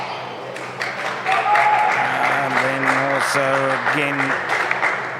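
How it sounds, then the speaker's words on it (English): A crowd of spectators claps at a squash semi-final of the PSA Namibian Open, steady applause filling the court while a commentator speaks over it. "louder applause"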